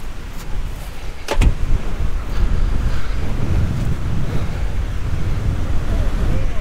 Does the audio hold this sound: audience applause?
no